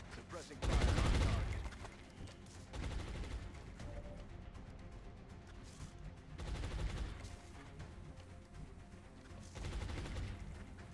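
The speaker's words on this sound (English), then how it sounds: "Suppressing fire on target." Suppressing gunfire in XCOM Long War, with several loud, heavy bursts of fire repeating every few seconds against a quieter background.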